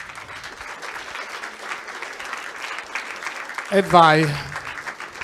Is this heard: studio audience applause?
yes